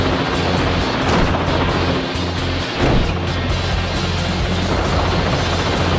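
A steady helicopter rotor drone from a Teenage Mutant Ninja Turtles video game fills the clip, a continuous low thrum with engine whine, close and loud throughout.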